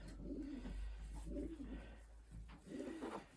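A young racing pigeon coos at the loft during a young-bird race from Honiton, three soft throaty coos over a steady low background hum, faint and nearby with no talking.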